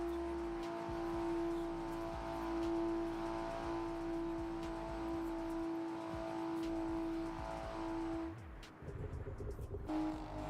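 A heavy race car engine in a driving video game, a steady loud drone with shifting revs that eases through a slower corner near the end.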